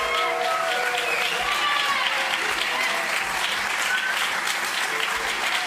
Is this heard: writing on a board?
no